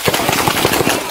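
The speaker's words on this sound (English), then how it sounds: "Shots fired!" Rapid gunshots fired near a police encounter with an armed suspect at a school, a loud run of about a dozen sharp cracks in quick succession, close and dense.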